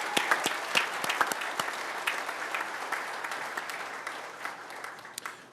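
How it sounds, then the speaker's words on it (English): Applause at a school board meeting for newly sworn-in board members: a room of people clapping steadily with distinct sharp claps, slowly thinning toward the end. "Give them another round of applause."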